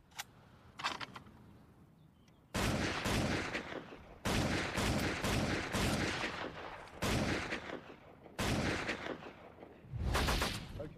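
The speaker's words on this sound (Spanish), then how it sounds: "Aquí tenemos una ametralladora Lewis, una de las clásicas de la Primera Guerra Mundial" A World War I Lewis machine gun fires several loud bursts of rapid shots, each lasting one to two seconds, with brief quiet gaps between them and a few faint single reports near the start.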